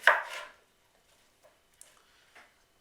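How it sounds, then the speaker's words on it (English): One sharp knife chop through vegetables on a cutting board, followed by a few faint, sparse taps. "So I'm going to go ahead and keep chopping these down."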